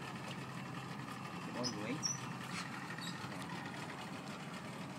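A boat engine idles steadily at close range during a powerboat licence practical test, a constant low rumble under loud instructions from a man and brief speech throughout.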